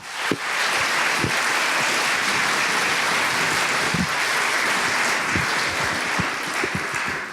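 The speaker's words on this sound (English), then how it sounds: "give them, all of our poets today, a huge round of applause" A huge round of audience applause for poets at a peace poetry contest, loud, dense clapping sustained throughout with a few sharper claps standing out.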